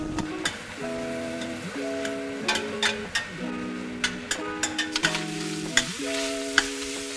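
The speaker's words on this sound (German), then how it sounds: "In einem schönen großen Topf die Butter erhitzen. Die Zwiebeln dazugeben." Chopped onions fry in hot butter in a large pot for a German swede stew, with a steady close sizzle broken by repeated sharp clinks of a spoon against the pot.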